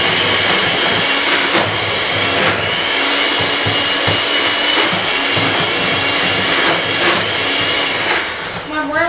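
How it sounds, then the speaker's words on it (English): An electric mixer whirs steadily as it beats butter with white and brown sugars for a homemade sweet potato pie. The motor drones loud and close, with a slight wobble, before easing off at the very end. "I'm going to give these a mix."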